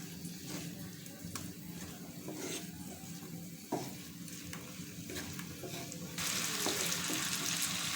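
Chopped carrots with egg and potato frying in a pan are stirred, producing a steady sizzle with scraping spoon strokes and occasional clinks, and the frying noise grows louder and brighter near the end.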